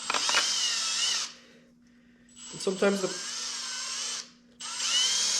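A power drill drives a bolt into tight-fitting plastic while assembling a Clam Yukon XL thermal ice shelter, giving two sustained whining bursts with a short pause between them and a third starting at the end, with brief talk in the gap.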